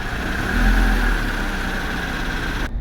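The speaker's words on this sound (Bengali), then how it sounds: "এসিতে সাউন্ড একটু শোনেন" A 2008 Toyota TRH200 van idling with its air conditioning switched on high, a steady, close engine hum with a low rumble that cuts off abruptly at the end, without speech.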